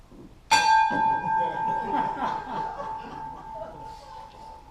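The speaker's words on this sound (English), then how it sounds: "I'm glad he rang the bell" A single bell is struck to open a Rotary club meeting, a sharp, bright ring with a long sustained tone that lingers for several seconds while people chatter and laugh softly nearby.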